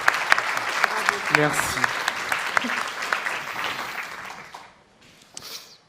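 An audience at the final of a world eloquence competition in Paris applauds a prize winner with sustained, lively clapping and scattered sharp claps, while a voice briefly speaks over it before the applause tapers off.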